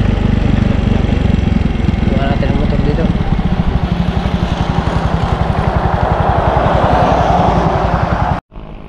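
A motorcycle engine runs steadily with a loud, throbbing rumble throughout, cutting off abruptly near the end.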